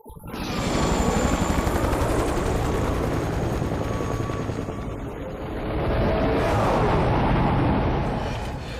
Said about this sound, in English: We need to set this chopper down